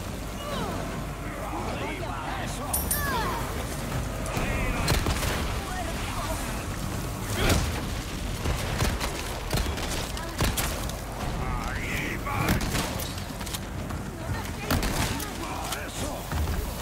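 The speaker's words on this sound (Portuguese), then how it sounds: "Explosão" Explosions and bursts of gunfire in Resident Evil 4 Remake on insane difficulty, a dense continuous barrage of booms and thuds with sharper hits around the middle and near the end, mixed under game noise and voices.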